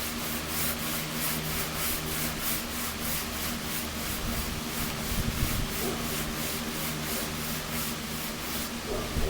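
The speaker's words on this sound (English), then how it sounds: "we're going to take my hand sander once again, and we're going to sand" A hand sander works over a 1926 DL&W steel rail outdoors, a steady abrasive rubbing with regular rhythmic strokes and a constant motor hum, fairly quiet and without speech.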